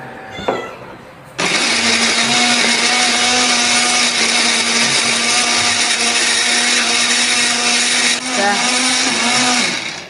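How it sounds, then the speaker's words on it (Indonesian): Kitchen blender grinding a chili spice paste with a little water or oil, starting up after a short quiet moment and then whirring loud and steady for several seconds before dipping briefly and carrying on. "Kemudian kita akan blender bumbunya."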